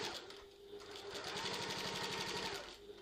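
A sewing machine runs back stitching along the side seam of a tote bag, a fast, close mechanical chatter of rapid needle strokes that holds steady for a few seconds before stopping.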